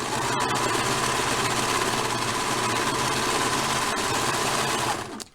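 A sewing machine runs fast and continuously, stitching the bottom of a small Barbie dress bodice, a loud close steady whir that stops abruptly at the end.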